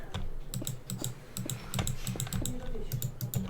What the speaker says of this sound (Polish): klikam wszystkie klawisze